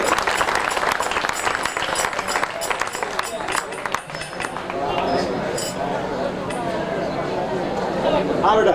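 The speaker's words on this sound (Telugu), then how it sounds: "గట్టిగా చప్పట్లు" Loud, dense clapping from a crowd at a Devi Navaratri bhajan gathering in a Devi Mata temple, steady for about four seconds before settling into a softer crowd murmur, with voices talking throughout.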